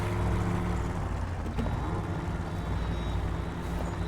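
A truck engine in the video game SnowRunner drones on steadily in a low, rough hum, constant in level throughout, with a faint brief click partway and no talking.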